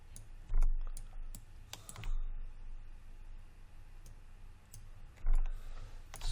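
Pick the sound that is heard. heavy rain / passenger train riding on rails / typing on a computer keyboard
typing on a computer keyboard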